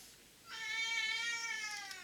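A cat meows loudly and insistently indoors, one long drawn-out wailing call sustained for over a second in a quiet room.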